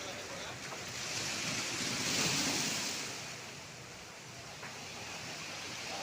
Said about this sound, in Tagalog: Grabe kalalaki ng alon.